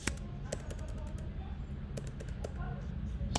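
Keys clatter on a computer keyboard as text is typed, in short irregular bursts of clicks close to the mic under a steady low background hum.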